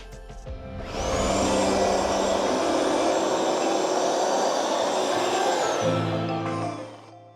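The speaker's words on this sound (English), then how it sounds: "I'll do the scarifying with blades." A lawn scarifier runs with its blades set to -6 millimetres cutting into turf, starting up after a second and holding a loud, steady whirring drone for about five seconds before winding down.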